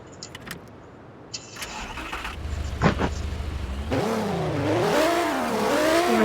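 Nissan GT-R engine cranking and firing up after a few faint clicks, settling into a loud idle and then revving up and down in rising and falling swells, close by, with no talk.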